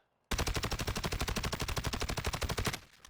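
Sustained full-auto fire from an STB556 rifle in a video game during a recoil test, a loud rapid even burst of about two dozen shots that stops abruptly.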